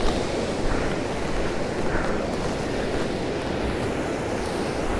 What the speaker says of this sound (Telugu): వాటర్ పోతున్నాయి కింద నుంచి